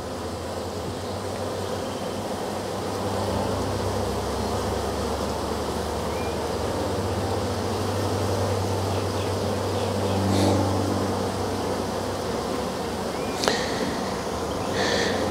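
A honey bee swarm streams into a nuc hive with a dense, continuous buzzing drone that holds steady throughout, close and full, with a couple of faint clicks near the end and no talking.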